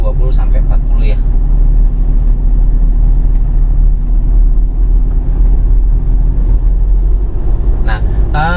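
A Toyota Hiace 2.4 diesel van driving at low speed, its steady engine drone and road rumble heard from inside the cabin, loud and constant beneath someone talking.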